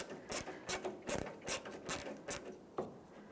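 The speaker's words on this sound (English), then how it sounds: "let's snug up the last stud over here" Ratchet wrench snugging the last headlight stud on a 2000-2006 Toyota Tundra during a performance headlight assembly swap, a close, loud series of about eight rhythmic clicking bursts with no talking.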